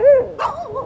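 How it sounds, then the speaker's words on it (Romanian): Stray dogs barking and yelping in a Moldovan street, a near, loud yelp followed by a couple of quick, higher barks in a short burst. "Bineînțeles, câinii vagabonzi nu lipsesc."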